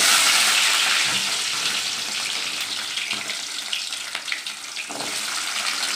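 Small shallots hit hot oil with fried fenugreek seeds for a peanut kara kuzhambu, giving a loud watery hiss that settles into a steady bubbling sizzle with occasional stirring scrapes, no voices.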